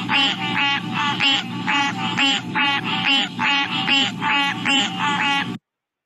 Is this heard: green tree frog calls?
yes